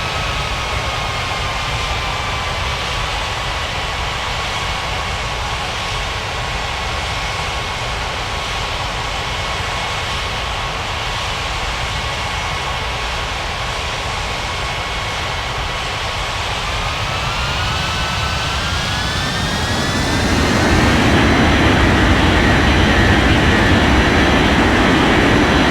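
Jet airliner engines spooling up for takeoff in a flight simulator game, a loud steady roar with rising whine tones that swell sharply near the end, alone without talk.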